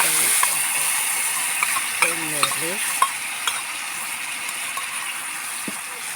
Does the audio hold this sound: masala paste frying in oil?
yes